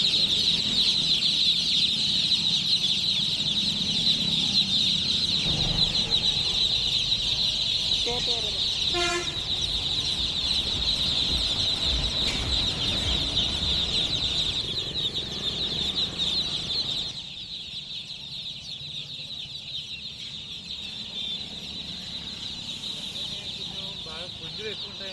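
A crowd of young chicks cheeps continuously in high, shrill, overlapping peeps, fairly close and loud throughout, with a few louder calls and some background rustling; the chorus thins slightly toward the end.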